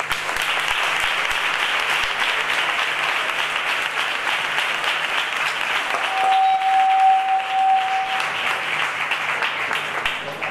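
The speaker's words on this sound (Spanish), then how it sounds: "Un aplauso para don José." Sustained applause from a gathered audience at a young rocieros' meeting in Almonte, steady and full for the whole stretch, with a faint tone and murmur of voices near the end.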